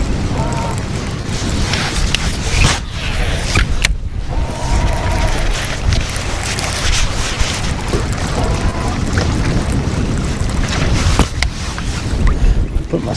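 Gusty wind buffets a boat during shallow-water bass fishing, a steady broadband roar that persists throughout with someone talking over it.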